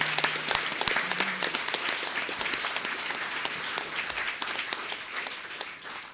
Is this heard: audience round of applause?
yes